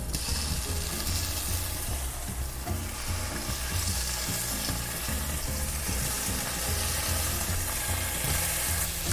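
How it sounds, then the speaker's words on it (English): Tempeh pan-fries in a tablespoon of oil in a preheated heavy skillet over medium heat, giving a dense, steady sizzle with scattered small crackles and rattling pan sounds and no speech. "We're gonna saute this for about 10 minutes."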